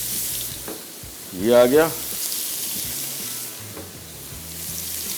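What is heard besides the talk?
chicken frying in a very hot pan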